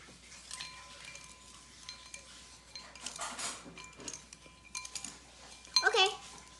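A spoon stirs unicorn slime mixture in a bowl with light scraping and clinking against the sides, intermittent and close, while people talk over it.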